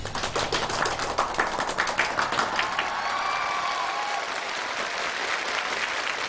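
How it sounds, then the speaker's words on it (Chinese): A studio audience at a televised challenge show in Beijing applauds steadily, with dense continuous clapping that holds at an even level throughout. "接下来让我们掌声有请挑战者出场。"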